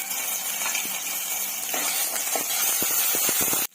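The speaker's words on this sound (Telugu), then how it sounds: "అల్లం పేస్ట్ పచ్చి వాసన పోయేంత వరకు బాగా ఫ్రై చేసుకుందాం ఆయిల్లో." Ginger paste frying in hot oil, a steady loud sizzle and hiss with scattered crackles and pops growing more frequent toward the end before cutting off abruptly.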